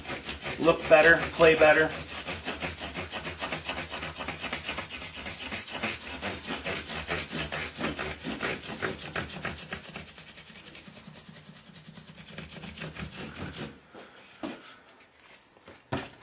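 Bass guitar frets on a left-handed Fender Jazz Bass are polished with steady back-and-forth rubbing strokes, close and dry, before the rubbing stops near the end; a voice speaks briefly in the clip.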